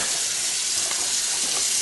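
A kitchen sink faucet runs in a steady, loud, unbroken hiss of flowing water, heard up close with no other sounds.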